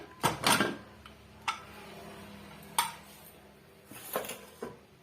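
A pressure cooker lid is opened after steaming sago dough, giving several sharp metallic clanks and clatters against a quiet hiss, close and loud, with no talk.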